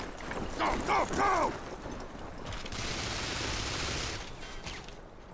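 Rapid gunfire crackles in the video game Vanquish, a sustained volley of shots heard at moderate level alongside whooshing game effects and a brief electronic chirp.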